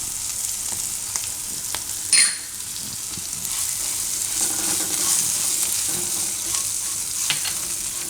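Chilies fry in a pan with fenugreek powder and fennel, giving a steady close sizzle broken by occasional stirring scrapes and one sharp clink, with no talk.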